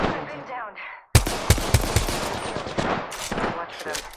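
Close, loud bursts of automatic gunfire from Apex Legends crack in quick rhythmic volleys after a brief pause, with a voice talking over the opening moment.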